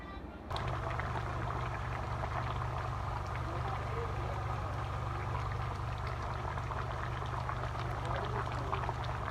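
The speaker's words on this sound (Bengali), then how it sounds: "এটা পোলোয়া রান্না হচ্ছে এটি সাদা ভাত রান্না" A pot of polao rice boils at a friends' goat-meat party in Saudi Arabia, giving a steady, close, dense bubbling roar that starts abruptly and holds throughout, with people talking faintly beneath it.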